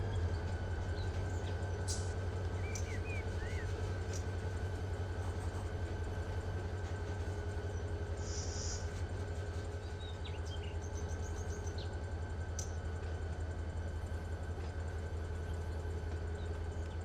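A freight train runs in Run 8 Train Simulator, a steady low mechanical drone with a constant hum and occasional faint clicks, quiet and unbroken, with no talking.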